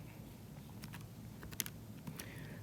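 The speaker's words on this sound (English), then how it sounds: "So I'm typing this in my calculator as I'm speaking." Quick light taps on small plastic keys, a handful of presses spaced irregularly over a faint steady hum.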